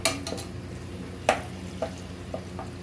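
A spoon stirs paneer pulao ingredients in a pan on the stove, a soft scraping under a low sizzle, with a few distinct clinks of the utensil against the metal.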